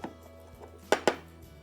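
A knife chopping parsley and mint on a board, a few soft cuts followed by two sharp, close chops.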